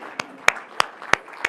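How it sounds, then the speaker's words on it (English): A single pair of hands clapping five times at a slow, even pace, sharp close claps over a faint room hush, in response to a call for a round of applause for a city's residents. "So please give yourselves a round of applause."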